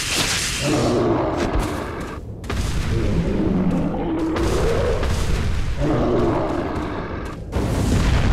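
Repeated heavy rifle gunshots boom in a rapid series during a boss fight in the video game Resident Evil 4 Separate Ways, loud and close, with dense reverberant blasts filling the space between shots.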